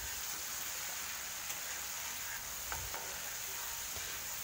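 Mustard and poppy seed paste fries in a pan while being stirred: a steady, quiet sizzle with soft scraping strokes throughout.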